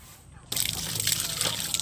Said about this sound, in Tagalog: Ayan oh, lakas ng tubig oh